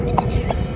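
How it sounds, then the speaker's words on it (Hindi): Horses gallop into a village in an animated horror story, their hooves clip-clopping in a quick, steady rhythm at close range over low background noise. "गांव में घोड़े दौड़ते पहुंचे"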